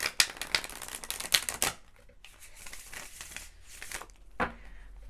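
Tarot cards being drawn and handled from a deck, giving a run of crisp papery flicks and snaps that are loud at first, then softer rustling with a few more card slaps, and no talk.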